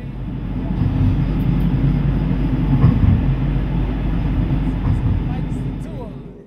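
A Porto metro train runs through a tunnel with a deep, rumbling roll that swells and holds steady, with rail clatter and faint squeals over the low drone.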